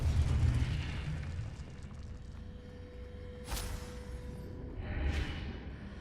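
A Confringo blasting-curse explosion in the video game Hogwarts Legacy, a deep rumbling burst at the start followed by two sharper whooshing blasts, loud and close.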